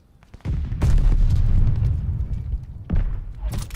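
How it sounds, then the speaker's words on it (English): A sticky bomb detonates in a first-person shooter, a loud nearby boom that rolls on for about two seconds, followed by a second, sharper blast. "Using a sticky bomb."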